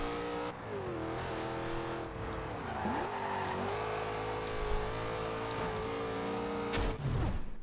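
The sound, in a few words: car engine accelerating at high speed in Forza Horizon 2 video game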